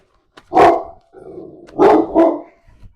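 A dog barks in three loud, close, sharp bursts, with a short pause after the first bark and the last two coming quickly together.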